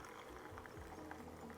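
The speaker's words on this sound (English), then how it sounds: "I'm going to pour my tea." Green tea with peach and mango poured into a cup from a teapot, a steady close liquid stream with soft splashing, running alone and fairly quiet.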